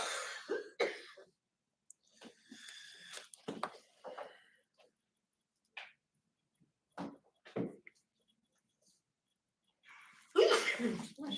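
A few short, sharp sneezes and coughs break out in a quiet painting class, with throat clearing and some talking between them, ending in one louder sneeze.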